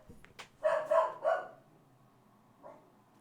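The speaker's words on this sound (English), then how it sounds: "my dog is barking" A dog barks several times in quick succession at moderate distance, followed by a softer single yip after a pause.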